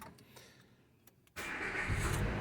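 A Renault Modus engine cranks and catches after a quiet stretch with a few faint clicks, then settles into a steady, loud idle heard close up from inside the car.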